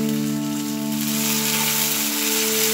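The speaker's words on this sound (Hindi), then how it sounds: "2 सेकंड के लिए मसाला को फ्राई करेंगे।" Masala with tomato and green garlic fries in a pan, a steady soft sizzle over a constant tonal hum, even and unbroken with no talk.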